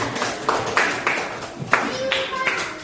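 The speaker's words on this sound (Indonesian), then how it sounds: "Tepuk tangan." A classroom group claps hands together in a rhythmic pattern of sharp bursts, some doubled and some single, about eight in quick succession with a brief pause midway, sounding close and lively.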